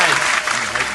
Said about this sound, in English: Let's give some claps up for the flies guy on Earth's birthday.